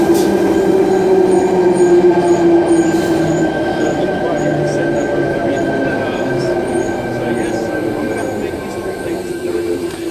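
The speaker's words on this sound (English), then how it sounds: "This is the final train ever to traverse the Epping to Chatswood rail link." Sydney Tangara train running on the Epping to Chatswood rail link, a steady loud rumble of wheels and motors with a tonal whine throughout, heard from on board.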